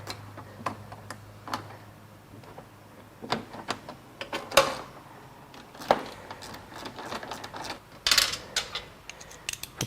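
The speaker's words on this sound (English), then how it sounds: "we will tighten these bolts back down on the headlight assembly." Bolts being tightened on a Mercedes S600 headlight assembly, heard as scattered close clicks and ratcheting ticks with a few sharper metallic knocks, quiet and irregular with no talking.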